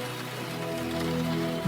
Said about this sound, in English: made me smile with every splashing raindrop on the window pane of the taxi